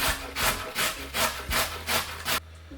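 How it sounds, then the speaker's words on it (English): Food rasped on the largest holes of a metal box grater during beef cheek ragu prep, seven rhythmic scraping strokes in a steady back-and-forth pattern, close and loud, then stopping abruptly. "Pretty sure everybody knows how to use a box grater. Use the largest part"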